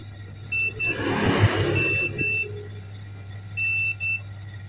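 Multimeter continuity buzzer beeping on its buzzer setting while a Samsung SM-A115F board is checked for a short, several short high beeps over a steady low hum and brief rustling.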